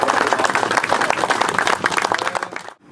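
Audience applause in a hall at a medical equipment presentation, dense steady clapping from many hands for nearly three seconds, then cutting off abruptly.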